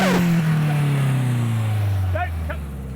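Racing car on a hot lap, engine note rising steadily as it accelerates at the limit, loud and close, with a voice briefly over it.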